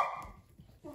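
Cavapoo puppies barking, heard as a short faint yip at the start of a brief moment of mostly quiet room sound, with soft noise close by.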